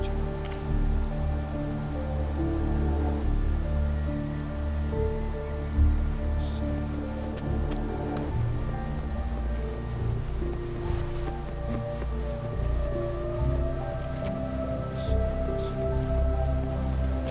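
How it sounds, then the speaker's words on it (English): Steady rain falling in the Wuthering Waves video game, a soft continuous hiss of drops beneath a sustained low ambient musical drone, even and unbroken with no speech. "It's raining."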